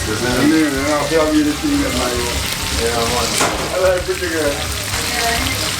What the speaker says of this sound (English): so in the pot right now we have some, what do you call that, some red snappers which the chef himself caught